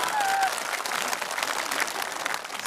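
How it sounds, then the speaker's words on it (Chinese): Sustained audience applause in a television comedy studio, broad and steady clapping from a large crowd, with a brief whistle-like tone near the start and faint voices mixed under it. "鼓掌"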